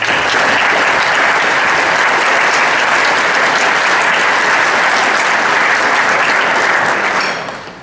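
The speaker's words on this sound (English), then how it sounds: "A big round of applause to the parents and families" Dense, steady applause fills an honors reception hall as the audience claps for parents and families, loud and continuous before tapering off at the end.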